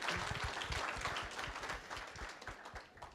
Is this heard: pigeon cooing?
no